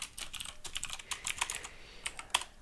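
Fast typing on a computer keyboard while writing code in Visual Studio, with a dense run of crisp, close key clicks and no talking.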